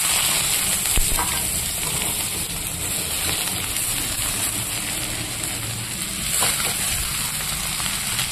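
Cabbage hitting hot oil tempered with black cumin in a pan, giving a steady, close, loud sizzle with a rain-like crackle throughout and occasional stirring scrapes.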